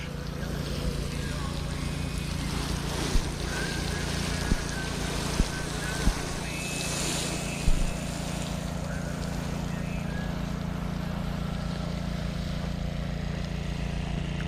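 A motor pumping irrigation water at a farm field runs with a steady, droning hum throughout, with a few faint knocks and a voice talking over it.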